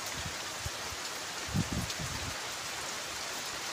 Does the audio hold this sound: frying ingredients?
no